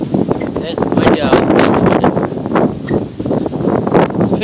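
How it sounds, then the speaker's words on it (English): Steady, rough wind buffeting the microphone throughout on a house's front porch, loud and close, with some rustling mixed in. "It's pretty windy in here."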